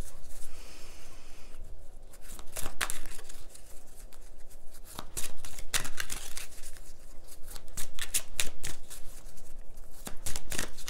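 Angel oracle cards shuffled by hand before a card is pulled, a close run of papery riffles and sharp flicks repeating irregularly, with soft breathing between.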